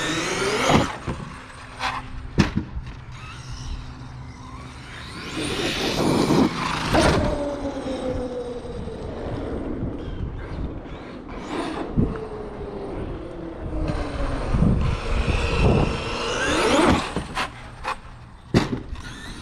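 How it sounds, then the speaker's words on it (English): An Arrma Kraton 8S EXB RC truck runs outdoors on its first run of the season with a continuous electric motor whine that rises and falls with throttle, broken by sharp knocks and rattles. "So nice to drive this truck."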